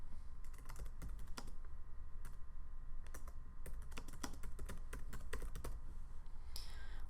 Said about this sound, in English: If you want to put any comments with the dictation, you can type these in here.